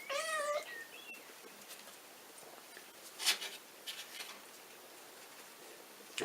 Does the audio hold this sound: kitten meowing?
yes